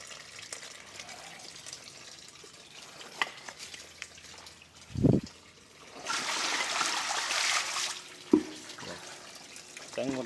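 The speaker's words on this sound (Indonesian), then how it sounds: "saya kuras pakai gayung sedikit" Water is scooped and poured by hand while bailing out a catfish pond, giving a soft splash near five seconds and a longer gush of pouring water for a couple of seconds after, with quiet outdoor background between.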